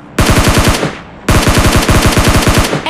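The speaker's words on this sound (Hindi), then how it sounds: "तो उसके बाद मेरे को आते हैं सामने की साइड से फायरिंग के साउंड" Two loud bursts of rapid automatic gunfire from the mobile battle royale game PUBG Lite crackle in quick succession, with a short pause between them and no voices.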